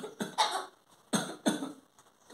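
Several short, harsh coughing bursts from a parrot in a small cluster, close and fairly loud, with quiet gaps between them and no speech.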